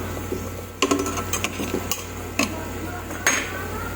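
Several sharp metallic clinks as a lid goes back onto a cooking pot of simmering soup, with a couple of lighter taps in between, close and clear over a quiet kitchen background.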